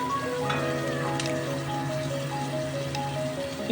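Steady sizzling of vegetables frying in hot oil, a continuous crackle close by with faint tonal background hum.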